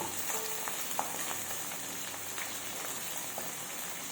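Green chillies, onion and spring onion crackle in hot oil as a flat-bean curry begins, giving a steady, close sizzle with scattered small pops.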